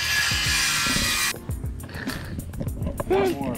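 A saw cuts through wood blocks in a steady broadband rasp for over a second, then stops; afterward close-up talk and laughter with scattered knocks and handling noises, part of a truck bed build.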